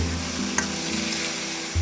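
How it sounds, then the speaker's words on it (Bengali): Vegetables for a small-fish chorchori, with eggplant and potato, sizzling hard in a hot pan, a dense continuous crackle with a brief clink of a utensil stirring. "আরও কিছুক্ষণ কষে ভেজে নেব।"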